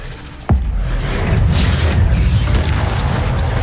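Expelliarmus spell cast in Hogwarts Legacy, a sudden sharp crack-like boom followed by a sustained rumbling, swooshing rush of game battle noise, loud and close.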